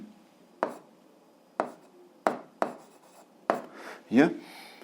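A math expression is written by hand in an algebra lesson, giving a series of sharp, close strokes and taps spaced about a second apart, with soft scratching between them. A single voice talks quietly in the background.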